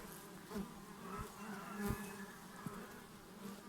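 Honey bees buzz steadily around their hives during the rapeseed bloom, a dense, close swarm drone with individual insects passing near.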